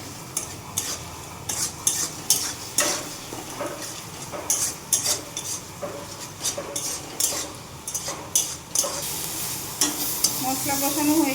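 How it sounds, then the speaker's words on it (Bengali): Spice paste with cumin sautéing in a pan for a Bengali kalna fish curry, steady close sizzling under repeated rhythmic scraping and stirring strokes of a spatula. "এবার মশলাটা কষিয়ে নেব।"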